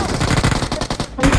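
A rapid burst of automatic gunfire from BGMI (PUBG Mobile) gameplay, loud and close, with dense repeated shots before a brief gap and a final report.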